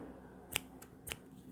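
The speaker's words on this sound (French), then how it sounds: "On prend nos ciseaux, hop," Two quick snips of scissors cutting through crochet yarn, close and crisp, with a faint click between them in a quiet room.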